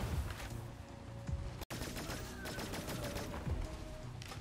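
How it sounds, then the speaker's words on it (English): Steady, rapid gunfire from Cygnus Enterprises runs the whole way through, fast repeating shots at even volume, broken by one split-second dropout partway in. "rapid fire."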